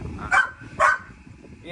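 A dog gives two sharp barks about half a second apart, fairly close, while people talk around it.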